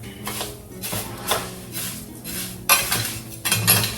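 Rice being toasted in a pan for Mexican rice: bursts of scraping and metal-on-pan stirring come in uneven strokes, separated by quieter gaps, with a faint cooking hiss beneath.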